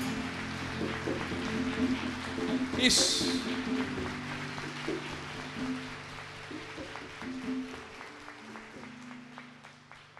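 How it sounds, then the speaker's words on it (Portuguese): A church congregation applauding, a dense, crackling patter of many hands that swells and slowly fades, with voices heard over it. "Aplauda a Santíssima Mãe de Deus mais uma vez."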